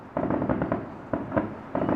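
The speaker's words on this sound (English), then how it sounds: "4th of July is coming up, and Oakland loves its fireworks." Fireworks bursting over Oakland around the 4th of July at dusk, heard from inside a zoo: a string of distant crackling pops and booms in uneven clusters, some bursts close together and others spaced apart, against a steady background rumble.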